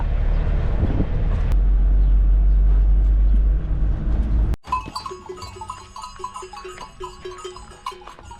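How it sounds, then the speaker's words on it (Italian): Goats bleat on a steep mountain road in Turkey, with bells clanking among them. The bleating follows a loud, rough rumble that cuts off abruptly, and it carries on in repeated calls at moderate distance. "Sono capre."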